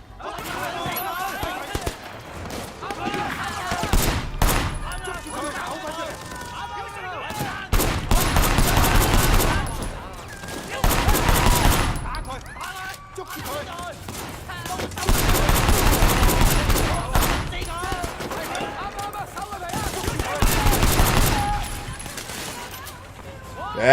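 Video game gunfire from Sleeping Dogs, repeated bursts of shots in several loud clusters with short pauses between, mixed with game sound effects and a voice talking over it.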